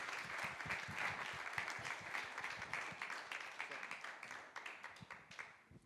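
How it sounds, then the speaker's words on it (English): A room crowd at a poker league launch event applauds for a welcomed chairman, with dense clapping that slowly thins and fades toward the end. "Can we have a round of applause"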